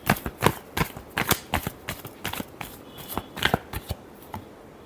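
Tarot cards being shuffled by hand, a brisk run of crisp riffling and slapping bursts in an irregular rhythm, close up and alone.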